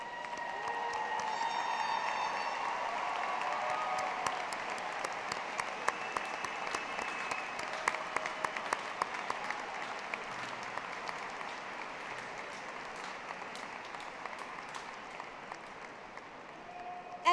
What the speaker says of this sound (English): I ask all UNI alumni in the audience to please stand and applaud the newest members of our UNI alumni family